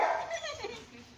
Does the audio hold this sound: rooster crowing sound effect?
no